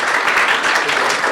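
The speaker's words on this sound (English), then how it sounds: "Round of applause." An audience at a graduation ceremony for the Texas Tech Accelerator breaks into steady, loud applause, a dense wash of clapping filling the room without pause.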